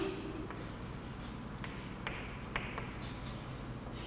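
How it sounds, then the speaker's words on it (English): Pens scratching on paper as students write during an English grammar class, with faint, close, irregular strokes and brief taps over a low room hum and no talking. "Write down."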